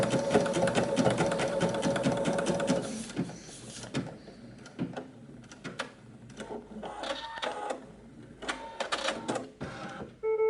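A digital embroidery machine stitches rapidly in a dense mechanical whir for about three seconds, then slows into scattered clicks, clunks and short motor bursts as it finishes its last few stitches.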